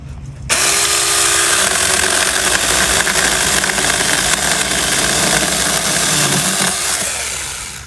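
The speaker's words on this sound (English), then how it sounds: "This is green wood." A Saker mini electric chainsaw cuts through green wood, starting abruptly and holding a loud, steady high-pitched whine with slight load changes for several seconds before easing off at the end.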